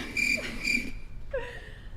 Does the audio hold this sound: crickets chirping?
yes